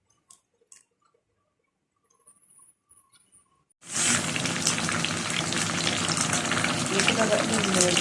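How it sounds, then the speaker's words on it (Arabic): Eggplant shallow-frying in hot oil in a home kitchen pan, a loud continuous sizzle that bursts in halfway through after a few quiet clicks and soft sounds, then holds steady and dense to the end. "هشطف البتنجان ده وهاخده تشويحة كده في الزيت"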